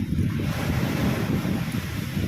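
Heavy surf at high tide churns and roars continuously, with strong wind buffeting the microphone and no voices.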